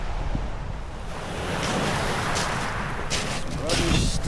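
Wind gusting over a pebbly beach in far-north Queensland, with a steady roar of breeze and washing surf and a few louder gusts near the end. A voice may be faintly present.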